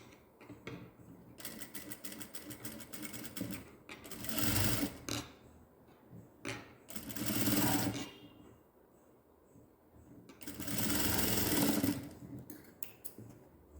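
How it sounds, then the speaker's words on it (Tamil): A sewing machine stitches a newborn baby's gown shoulder seam, running in three loud bursts of rapid mechanical whirring separated by quieter pauses with light handling noise. "அதே போல் இந்த பக்க ஷோல்டரையும் ஒரு படிமான தையல் போட்டு எடுத்துக்கலாம்."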